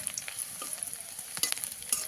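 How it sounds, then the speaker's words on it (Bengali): Chopped onion, garlic and green chili fry until reddened in a steady sizzle with crackling pops and occasional scraping of a spoon stirring the pan, close by and without speech. "পেঁয়াজগুলো লাল করে ভাজা হয়ে গিয়েছে"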